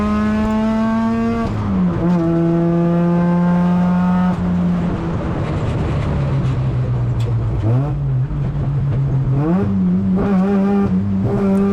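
A rotary-powered Mazda RX7 race car laps a track during an endurance race, its high buzzing engine revving loud and close, dropping on downshifts and climbing again through the gears, with tire noise and no talk.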